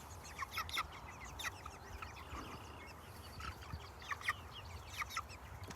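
Five-week-old chickens in an outdoor shelter on grass cluck and cheep in scattered short bursts, several birds close by, fairly faint against a soft background hiss.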